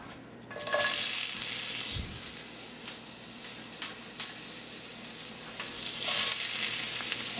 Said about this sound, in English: Make room for the peppers and we'll put the peppers in and cook them up.